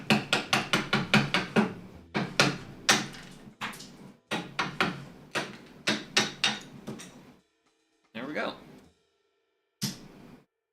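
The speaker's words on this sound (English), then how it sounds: "go to the 3/4 chisel" A 3/4 inch chisel is struck into wood while building a scrap-lumber shelf, giving a series of sharp, close mallet taps in quick bursts, then sparser hits with brief pauses between them.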